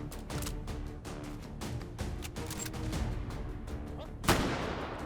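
Rapid shots from a wooden gun in a modded video game, a dense stream of bursts running steadily throughout with one sharper, louder blast near the end.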